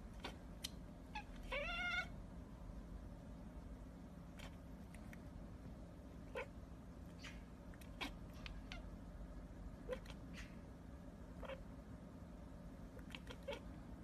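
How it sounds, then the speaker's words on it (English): A house cat makes a brief, faint chirping trill near the start, followed by a few soft scattered ticks over a steady low room hum. "It's almost like a cat chirp."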